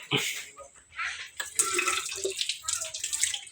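Water running into an indoor sink, fed by a horizontal 1000-liter tank and 1 hp electric water pump, splashing irregularly at close range.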